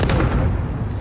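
Cluster strike explosions rumble in a military video game, loud overlapping booms and blasts with a sharp burst at the start, then continuous heavy low rumbling.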